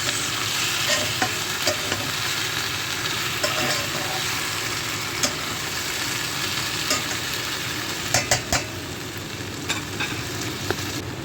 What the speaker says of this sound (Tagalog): haluin mo lang siya ng dahan-dahan